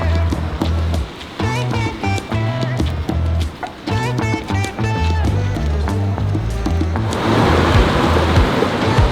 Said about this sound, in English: Being rained on.